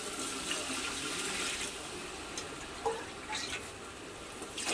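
Water streams steadily into a pot of rice for biryani with a continuous hissing splash, fairly close and without any talking.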